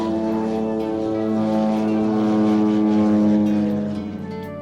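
A float plane's propeller engine drones steadily and loudly at close range in SE Alaska's Inside Passage, its layered harmonic roar swelling slightly mid-way before easing off, with no voices over it.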